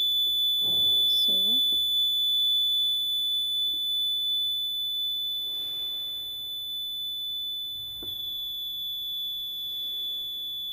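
A null detector in a Maxwell's bridge lab setup emits a continuous high electronic tone, steady throughout, while a person speaks briefly near the start and a faint click comes later.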